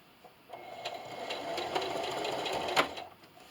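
A sewing machine stitches a seam on an upcycled scrappy patchwork bathmat, its motor starting after a short pause and then running at a steady, even whir, close and alone.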